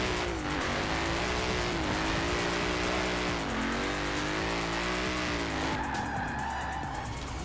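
Car drifting in Forza Horizon 4, engine revving with rising and falling pitch under continuous tire squeal, loud and close throughout.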